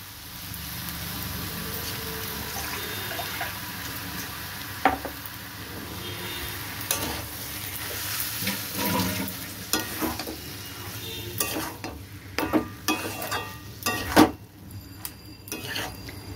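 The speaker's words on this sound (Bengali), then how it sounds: "এবার দিয়ে দেবো মুগ ডালটা।" Boiled moong dal goes into frying masala in a pan and is stirred, a continuous sizzle punctuated by a sudden splash, then scraping and clinking of a spoon against the pan growing busier toward the end.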